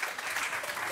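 Brief, dense applause from an audience at a late-night comedy show, a continuous, moderately loud patter of many hands with no voice on top.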